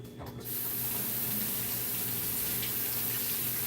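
Tap water runs steadily into a sink, rinsing fresh asparagus spears after their elastic bands come off; a continuous broadband splash starts after a brief quieter moment and holds close and even throughout.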